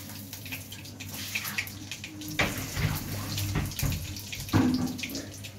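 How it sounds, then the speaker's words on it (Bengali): Mustard seeds hit hot ghee in a pan, giving a steady frying hiss with a few sharper crackles and pops that stand out above a continuous sizzle. "ঘিটা মোটামুটি গরম হয়েছে। এবার আমি এতে দেবো প্রথমে সর্ষে,"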